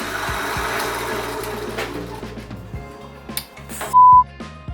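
A spinning piece of wood, an old doorknob turning on a lathe, gives a steady mechanical drone with rhythmic knocking throughout, and a sharp pointed tool catches against the workpiece, followed by a brief loud scrape near the end.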